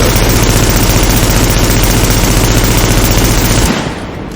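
Rapid, continuous automatic gunfire from a light, fast-reloading weapon in the video game The Division, loud and dense, cutting off abruptly near the end.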